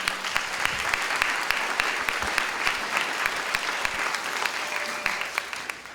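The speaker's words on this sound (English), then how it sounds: "So a quick round of applause, please, for you all." Sustained audience applause fills a family conference celebration hall, a steady dense wash of many hands clapping with no one speaking over it for about six seconds.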